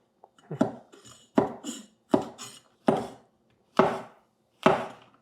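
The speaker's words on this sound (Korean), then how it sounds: "마늘 꼭지부터 잘라줄게요" A knife chops the ends off garlic cloves on a cutting board, six or seven crisp, separate thunks at a steady, unhurried pace, close and clear with no talking.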